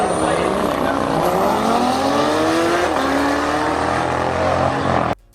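A Harley Davidson motorcycle engine roars steadily while riding, its pitch climbing through the gears at close range, loud and continuous before cutting off abruptly at the end.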